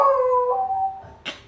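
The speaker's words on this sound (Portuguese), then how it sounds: "Meu cachorro está me chamando ali." A dog howls in long, wavering drawn-out tones that slide downward, fading before a brief yip near the end; close and fairly loud with no talking.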